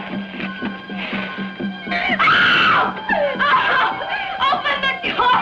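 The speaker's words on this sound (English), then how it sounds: "She's screaming." A woman screams behind a door, shrill and rising, mixed with other agitated voices and what seems like frantic laughter or wailing, loud and chaotic throughout.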